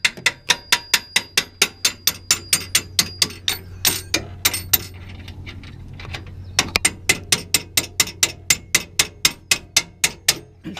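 Steady metallic hammer blows, rhythmic and loud, striking a third-generation Toyota Tacoma control arm in quick repeated series with a brief pause midway.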